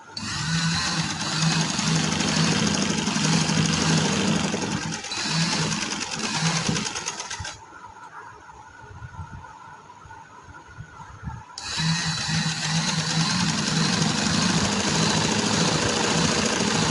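A sewing machine stitches an elastic sleeve, running in a steady loud whirring burst, pausing briefly in the middle, then starting up again close by.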